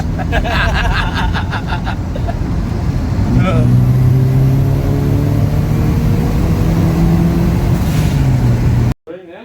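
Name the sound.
turbocharged Toyota Hilux 2.7L 3RZ engine accelerating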